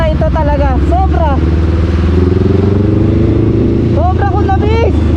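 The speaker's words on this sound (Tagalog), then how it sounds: "Na-miss ko ang motor na ito talaga." A motorcycle idles and rides through heavy city traffic, a loud low engine drone running throughout, with a person talking over it.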